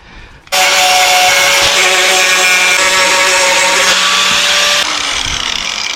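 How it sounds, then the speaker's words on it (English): A 320 grit wheel grinds against a metal turbo header on a Mustang, a loud, sustained high whine that starts abruptly and holds steady for about four seconds before dropping slightly in pitch and level, with no voices. "like a 320 grit wheel. It's not really taking any metal off."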